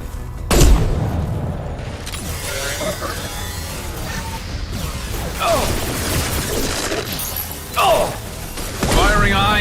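High-impact gunshots in Mass Effect 2 fire as loud, sharp blasts spread across the scene, each bursting out over a dense bed of game noise, with several heavy hits and crashes echoing through an empty urban area.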